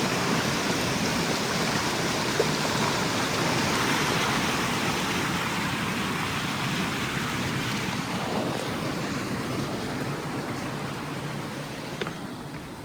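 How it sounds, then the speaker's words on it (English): A flowing creek rushes steadily as someone crosses it on foot at night. A continuous broadband wash of water sits close and loud, roughened by wind on the microphone, with faint splashes near the end. "I'm gonna try to cross the creek here."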